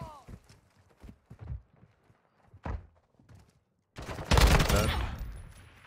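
A loud burst of video game gunfire, close and dense, arrives near the end after stretches of sparse clicks and footstep-like thumps, with a voice talking at times.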